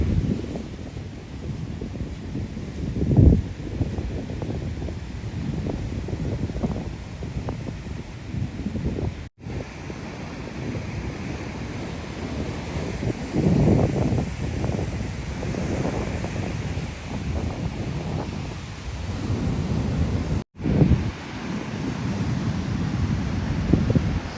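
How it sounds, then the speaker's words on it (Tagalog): Steady gusting wind buffets the microphone on a cold beach, a continuous broadband roar with rumbling low surges and brief dropouts, loud and close throughout with no talking. "It's windy na."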